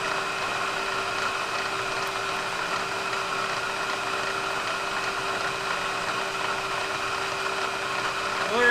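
A face mill on a milling machine spinning at 1800 RPM, feeding about 10 inches a minute across a workpiece sprayed with WD-40, gives off a steady whining, humming cut with a constant tonal drone that holds even throughout.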